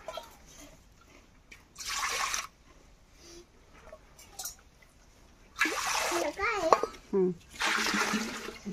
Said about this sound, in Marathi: असं आपण हे पाणी हंड्यात घेतोय